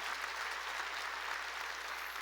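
Steady, even applause from a church congregation during a sermon fills the whole stretch, dense and sustained with no voices over it.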